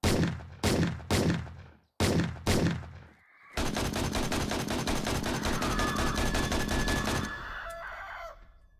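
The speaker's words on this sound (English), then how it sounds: "Oh wow, this gun is powerful." In the 7 Days to Die survival game, a powerful gun fires several loud, sharp shots in an irregular burst. Then comes a long, dense stretch of rapid continuous gunfire that drops away near the end.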